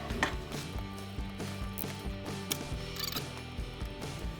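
Small Torx screws are turned out of a slider cell phone, giving faint, close ratcheting clicks in a quick repeating rhythm with light metallic ticks.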